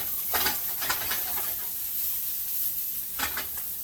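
A patty melt frying in a pan gives a steady soft sizzle, with a few brief louder bursts of crackle near the start and end. No one speaks.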